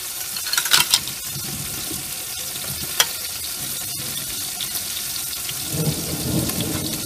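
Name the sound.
rain and thunder starting outdoors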